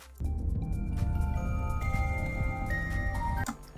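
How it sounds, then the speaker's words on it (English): Ballora's music box from the Five Nights at Freddy's game plays a faint tinkling melody of thin chiming notes over a low, busy rumble, starting abruptly and cutting off near the end. "She will come to either one of your doors and she'll play her music box, which sounds a bit like this."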